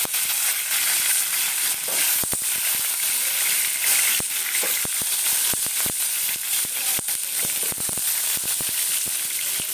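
Eggs go into a hot pan of oil and sizzle loudly and steadily for the whole stretch, with sharp crackles and pops scattered through the frying hiss, close and without talk.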